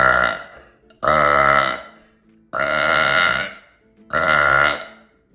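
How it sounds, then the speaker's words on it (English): Four long, loud, close burps come one after another with short pauses between them, each a deep drawn-out belch from a person at a signing event. "I burped for Aaron Paul"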